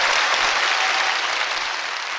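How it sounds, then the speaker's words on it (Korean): Steady applause from an audience at a Korean public talk on the Four Major Rivers project, dense and continuous without pause, close and loud throughout, no speech over it. "박수 주세요."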